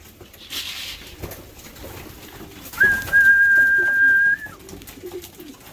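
Pigeons coo softly in the background, then a clear, steady whistled tone holds for nearly two seconds before stopping, with a faint bird call early on.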